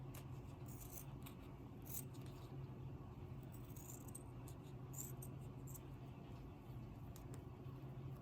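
Scissors that are not very sharp cut through faux leather in a series of faint, short snips and crunches, repeated irregularly against a quiet background hum.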